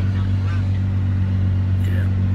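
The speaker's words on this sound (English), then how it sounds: "That's the sound of a V12 engine" The V12 engine of a Lamborghini Murcielago drones low and steady from inside the car while driving, a constant deep hum with faint background sounds on top.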